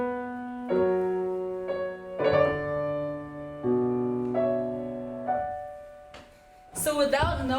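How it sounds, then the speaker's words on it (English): François Couperin's harpsichord piece Les Chinois played in Baroque style, a few sustained chords and melodic phrases with gaps between, ending in a brighter flourish, no one talking. "in François Couperin's Les Chinois, the Chinese, you hear the piece in the Baroque idiom"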